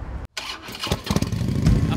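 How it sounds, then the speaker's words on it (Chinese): A Harley-Davidson motorcycle engine catches after a short gap, rising into a loud, rough, uneven rumble with sputtering bursts. "当哈雷发动机声音响起的同时"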